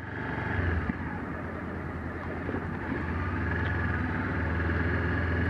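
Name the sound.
Honda CB500X motorcycle engine during test ride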